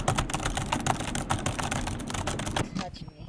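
Rapid clattering keystrokes on a computer keyboard during a gaming session, close and busy for about two and a half seconds, then stopping.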